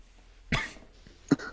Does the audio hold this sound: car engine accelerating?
no